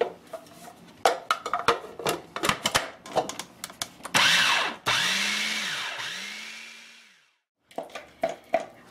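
A food processor whirs loudly for about three seconds, blending sweet potatoes until smooth, its motor pitch sliding and dipping, with clattering handling noises before and after.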